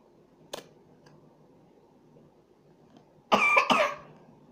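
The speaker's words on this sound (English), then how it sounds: "that's my sister coughing in the background" A young woman coughs in the background of a room, one brief cough early on, then a louder burst of two or three coughs near the end, with quiet room tone between.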